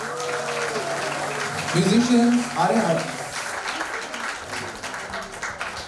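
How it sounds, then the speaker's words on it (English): Crowd applause for qawwali musicians at a live qawwali night, a moderate clapping wash running beneath an amplified host speaking over a microphone, swelling briefly in the middle before easing. "Can you please put your hands together for all the musicians?"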